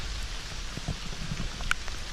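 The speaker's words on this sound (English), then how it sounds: "I'm absolutely soaking, typical Valleys weather, raining, lovely." Steady rain falling at the entrance of an old railway tunnel in the Welsh Valleys, a soft continuous patter with a few brief louder drips, close by and with no talk.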